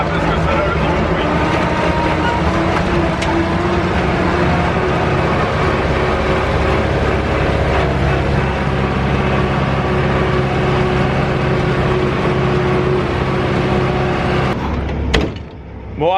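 An old Someca tractor engine revs up and holds a steady, loud droning roar with a deep rumble, then cuts off abruptly near the end with a couple of sharp knocks.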